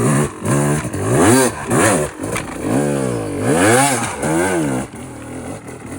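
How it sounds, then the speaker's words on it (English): A dirt bike built from a box of parts climbs uphill, its engine revving loud and close in repeated rising and falling surges, with brief dips between twists of the throttle. "And now we're out riding it, and it's good. Like, it's a really nice dirt bike."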